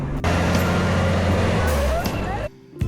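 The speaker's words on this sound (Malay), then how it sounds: "Tepi lah lori belakang besar ni." Heavy diesel lorry idling and rumbling close by at the Thailand border crossing near Sungai Golok, a steady low drone for over two seconds that cuts off abruptly, with a short burst of noise returning near the end.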